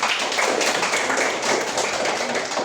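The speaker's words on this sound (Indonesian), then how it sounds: "tepuk tangan untuk Kesha" A classroom of students clapping for a classmate, a steady dense patter of many hands at close range that holds evenly throughout.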